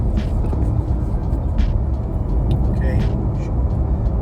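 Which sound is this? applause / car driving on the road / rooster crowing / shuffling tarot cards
car driving on the road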